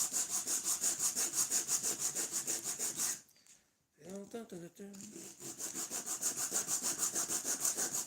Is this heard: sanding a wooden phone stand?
yes